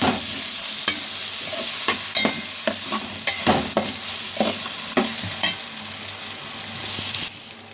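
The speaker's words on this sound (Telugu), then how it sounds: "కొంచెం పచ్చి వాసన పోయేంత వరకు చక్కగా కలుపుకుందామండి." Vegetables for veg biryani stirred and fried in a pan, a constant sizzling hiss broken by frequent spatula scrapes and clacks at a brisk uneven pace, close and alone.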